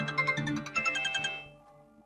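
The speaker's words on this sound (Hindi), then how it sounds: "मैं आशा दीदी को फोन करती हूँ" An electronic phone ringtone plays a bright, repeating melodic pattern close by, then fades out into quiet.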